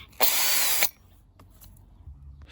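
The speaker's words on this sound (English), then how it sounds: "So I will unscrew this." A power drill or driver whirs loudly for just over half a second while backing out old screws on a wind-damaged greenhouse frame, followed by faint knocks and quiet handling sounds.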